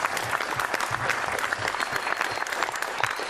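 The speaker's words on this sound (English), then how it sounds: "Give her a big clap." Wedding guests clap during the groom's speech, a brisk, dense round of applause from a roomful of people, steady and close throughout.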